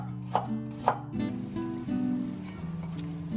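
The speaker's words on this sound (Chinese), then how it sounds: "接下来我们准备一些老姜哈，最好是带皮哈，这样子温补又不会用上火，给它切片。" Old ginger with the skin left on being sliced on a cutting board: a couple of sharp knife chops, then softer slicing under a steady tonal background hum, close by, no talking.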